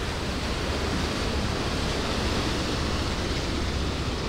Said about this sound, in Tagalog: malakas ang agos ng baha ng ilog